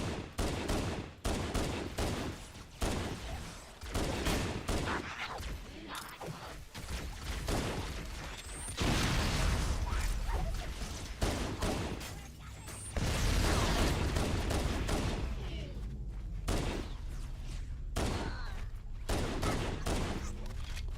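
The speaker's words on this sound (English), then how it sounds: "So the Halo pistol, for those of you who don't know, plays like a sniper rifle." Rapid gunfire from a pistol in Halo, loud and repeated in quick bursts over dense game noise, with heavier booming stretches and mechanical clatter running throughout.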